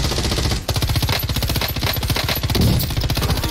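Rapid automatic gunfire in the online shooter game Call of Duty Warzone, loud continuous bursts of rattling shots with brief breaks, dense and close throughout.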